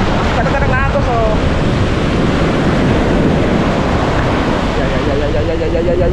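Strong sea current and surging waves on the coast at Bucana, Batangas during Typhoon Opong, a loud continuous rushing roar with wind buffeting the microphone and voices heard faintly in places.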